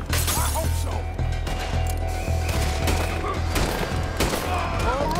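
Gunfire erupts in Red Dead Redemption 2 as scattered sharp shots crack over a low mechanical rumble and music, with smashing impacts mixed in, fairly loud and close.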